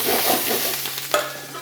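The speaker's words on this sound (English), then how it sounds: "Give that a nice stir." Garlic, thyme and peppercorns sizzle in a frying pan as they are stirred, a short close burst of hissing with one sharper scrape near the end.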